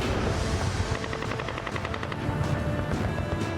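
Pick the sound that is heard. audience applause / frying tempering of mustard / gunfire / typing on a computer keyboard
gunfire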